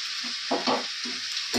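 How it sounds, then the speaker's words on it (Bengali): Chicken stirred and fried in a pan while home cooking, with bursts of scraping stirring over a steady sizzle, close and moderately loud. "তো চিকেনটা কষাবো"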